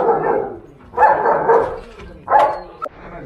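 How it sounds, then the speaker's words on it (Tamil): Dogs barking at a dog farm in Attur, Salem: three loud, close, deep barks spaced about a second apart, followed by a short sharp yip. "ஸோ அதை தான் நான் உங்களை இப்போ காமிக்க போகிறேன் எல்லாம் எப்படி கத்த போகுதுன்னு"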